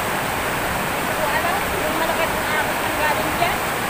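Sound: floodwater rushing from dam release

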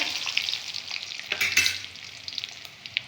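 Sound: green chillies frying and being stirred in a pan

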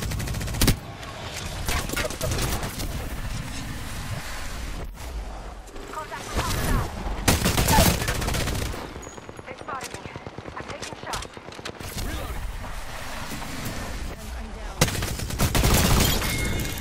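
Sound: gunfire in the Apex Legends video game

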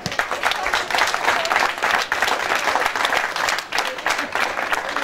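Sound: applause

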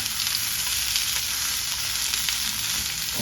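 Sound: cauliflower frying in hot sunflower oil

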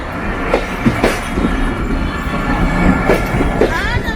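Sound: train passing over old British-built railway underpass

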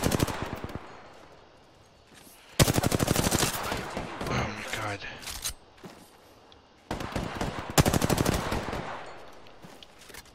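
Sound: gunfire in the video game Apex Legends

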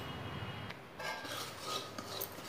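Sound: semolina (rawa) being stirred and roasted in a pan

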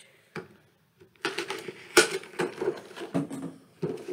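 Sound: opening action figure packaging with tape

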